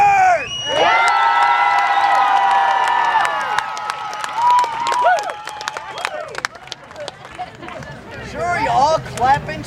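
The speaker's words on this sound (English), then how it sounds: "Sure, you all clap and cheer for that part." An audience claps and cheers, loud and sustained at first with whoops and shouts, then thinning into scattered applause and chatter.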